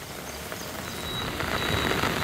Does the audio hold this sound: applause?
no